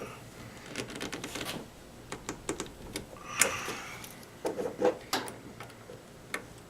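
A screwdriver working a tight set screw on a knob of an old tombstone radio used as a guitar amp, giving a run of close, dry clicks and ticks in uneven bursts.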